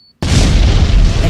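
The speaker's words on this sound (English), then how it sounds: "Explosion." A single loud explosion bursts in abruptly after a brief near-silence with a faint tone, then holds as a dense, roaring boom and rumble to the end.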